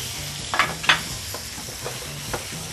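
Sliced pork stir-fries in a pan with garlic and chili, giving a steady close sizzle broken by a few sharp spatula scrapes and clacks, with no talking.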